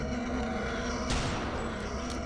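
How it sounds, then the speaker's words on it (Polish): Sniper rifle shots fired in the video game Return to Castle Wolfenstein: one sharp report near the middle, then a fainter one at the end, over steady game background noise. "Jeden strzał, drugi strzał."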